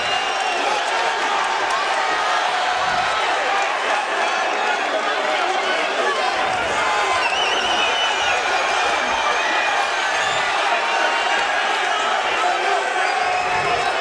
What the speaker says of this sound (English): A deafening roar from the crowd at the Videotron